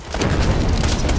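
A barrel in Borderlands 2 bursts in a loud, close, sustained blast. The roar is rough and broadband with a few crackling pops inside it, and no one speaks over it.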